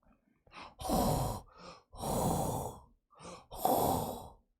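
A man breathes heavily and loudly, with several long, harsh, wheezing inhale and exhale bursts separated by short pauses, close to the microphone.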